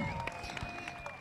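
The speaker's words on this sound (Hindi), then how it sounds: "थोड़ा जोरदार तालियां बजाइए" Dense crackle of audience applause at a festival event, continuous and fairly loud for about a second, with a steady tonal hum from the sound system running underneath.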